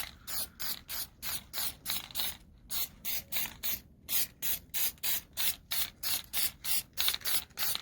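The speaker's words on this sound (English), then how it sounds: "I'm just using like the cheap black spray paint from Walmart." Cheap black spray paint hisses from an aerosol can in a quick series of about twenty short bursts, each a sharp airy spray with brief gaps between, close and fairly quiet with no talk.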